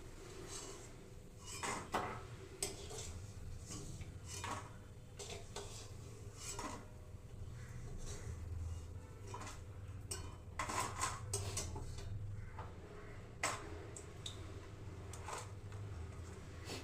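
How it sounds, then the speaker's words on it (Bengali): Fried chana dal fritters are lifted out of a pan, with a run of metallic scrapes and clinks of a utensil against the pan over a low background hum, close and fairly quiet, with no talking. "এবার বড়াগুলো আমি এখন তুলে নিচ্ছি।"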